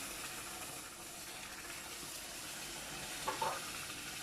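Milk and water poured into a pot of hot semolina halva produce a steady, broad hissing sizzle throughout, with a small bubbling flare near the end.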